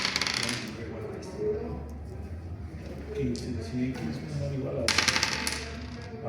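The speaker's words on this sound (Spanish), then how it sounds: "Video de tiro de 100 dados." A hundred dice are thrown, rattling and clattering in two bright bursts, one at the start and one near the end, with softer scattered clicks between them.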